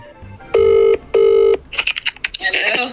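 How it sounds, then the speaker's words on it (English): A telephone rings twice on an outgoing call during a radio interview, two loud, even electronic bursts with a short gap between them, followed by brief rustling and clatter. "it's ringing."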